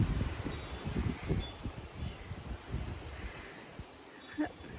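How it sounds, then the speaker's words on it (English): Gusty wind on a cold autumn-like day in the Scottish Highlands buffets the microphone with low, uneven rumbling and rustle, steady throughout with no voices. "Pretty cold, very windy,"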